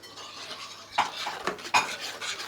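A spoon scrapes and clinks in a pot while stirring cold raw whipping cream, sugar and cocoa for a chocolate sauce for a fasting-friendly cake, with two sharper knocks standing out over soft, close stirring and no talk.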